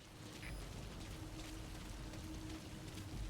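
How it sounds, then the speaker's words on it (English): Rainfall in the video game Metal Gear Solid V: The Phantom Pain, a faint, steady wash of falling rain with a low rumble underneath and no voices over it. "Sound of rainfall should help to mask your footsteps."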